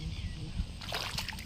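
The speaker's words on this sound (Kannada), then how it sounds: "ಸಿಕ್ಕಾಪಟ್ಟೆ ನೀರು, ಕಾಲೆಲ್ಲ ಮುಳುಗ್ತಾಯಿದೆ." Feet wading through deep standing water in a farm field, a few sloshing splashes close by in the second half, with a voice speaking before them.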